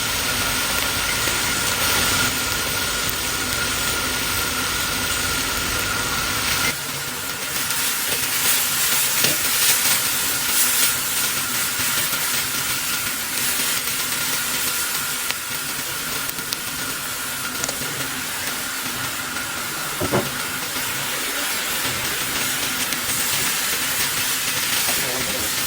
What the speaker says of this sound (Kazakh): Үстінен қара бұрыш және тұз салып араластырамын.